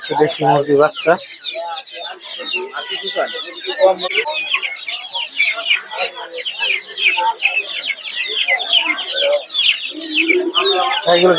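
Many chickens and chicks cluck and chatter continuously at a poultry market, with occasional voices of people talking nearby in a busy, noisy setting.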